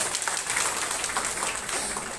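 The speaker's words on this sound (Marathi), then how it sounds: "आपण सर्वांनी टाळ्या वाजून ह्या पत्रकारांचं अभिनंदन केलं" An audience claps together to congratulate journalists at a taluka event, a steady, fairly loud wash of clapping that runs through the whole short stretch.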